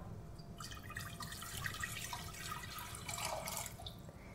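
Water is poured steadily into a pot on the stove for a red wine gelatin, a continuous close splashing gush with no talking.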